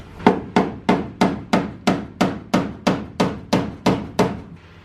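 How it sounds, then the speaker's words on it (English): Steady series of about eleven sharp hammer blows on the metal hatch of a beat-up Volkswagen Vanagon, evenly spaced and ringing briefly after each strike, with no talking. "I'm gonna hit this with a hammer up here"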